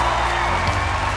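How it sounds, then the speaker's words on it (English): Loud, dense applause and cheering from a television talent show audience on America's Got Talent after mentalist Terry's performance, a continuous wash of clapping close up. "Round of applause for Terry."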